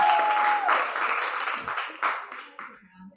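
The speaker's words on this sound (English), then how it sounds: "Clap for Ariel as she comes to the mic." An open mic audience claps and cheers as a performer comes to the microphone. The applause is loud and dense and fades over about three seconds.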